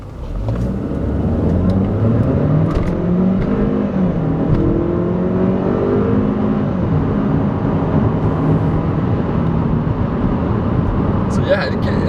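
A Kia Optima SX Turbo accelerates from inside the cabin, its engine note rising and changing pitch over a steady road roar as the car pulls through the gears. Someone talks over the drive.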